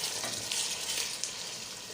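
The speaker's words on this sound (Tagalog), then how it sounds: "lalagyan na rin natin tong sahog nating pitso guys ng manok." Chicken breast hits a pan of golden-brown onion and garlic for pancit guisado, giving off a loud, steady sizzle with crackling bursts close by and no talking.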